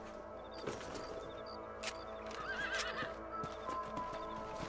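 A horse in the video game Red Dead Redemption whinnies with a wavering neigh over a steady clip-clop of hooves and faint ambient noise, with no one speaking.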